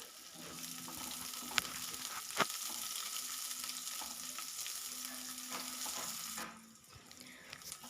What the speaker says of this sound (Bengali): সেই কুচিয়ে রাখা পেঁয়াজটা আমি দিয়ে দিচ্ছি, দিয়ে ভালো করে নাড়াচাড়া করে নিচ্ছি